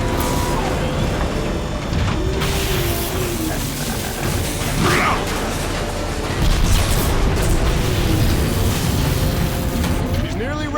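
Warp cannon fire pounds a ship's shields in the video game Transformers: Fall of Cybertron, heavy booms and rumbling impacts rolling beneath dense battle noise, with characters talking over the bombardment.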